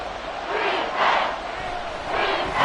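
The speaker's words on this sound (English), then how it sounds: "The Arrowhead crowd in full roar" A packed football stadium crowd at Arrowhead roars in swelling waves, a broad, loud rumble of cheering that surges twice over a couple of seconds.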